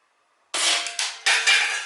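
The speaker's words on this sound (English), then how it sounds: "I'm gonna shoot it right around the base of the targets first." An airsoft gun fires at the base of a homemade hostage-style target, giving a few sharp, close bursts with short rattling decays in quick succession and no talking.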